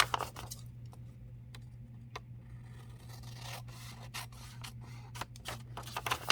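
Scissors snip through fabric scraps for a handmade bag, giving soft, close, quiet cuts and rustles in an irregular rhythm.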